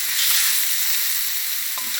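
Washed jasmine rice being stir-fried in a pan, a steady loud sizzle and hiss with a light scrape of stirring near the end.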